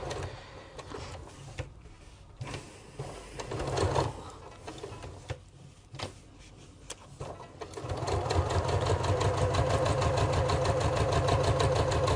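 A sewing machine stitching fabric for a bag shoulder pad, running in short bursts at first, then in a fast steady rhythmic stitching run that grows louder and closer.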